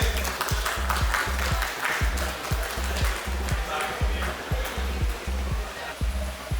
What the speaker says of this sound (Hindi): एक जोरदार ताली सबके लिए बजा दीजिए।